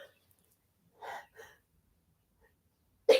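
A single person sneezes indoors, first a short pair of sharp intakes, then a loud, abrupt burst near the end, close and alone with no talking.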